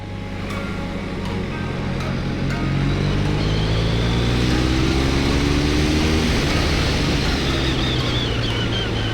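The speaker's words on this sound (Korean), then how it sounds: "오, 엔진 소리가" A BMW R1250RS motorcycle engine runs steadily throughout, with a deep rumble whose pitch rises as it revs up.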